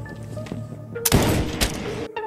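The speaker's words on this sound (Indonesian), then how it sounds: "Satu sniper disiapkan untuk Patrick" Sniper rifle shot in a film scene, a single loud sharp blast with a booming tail, followed by a second crack shortly after, close and prominent over background score.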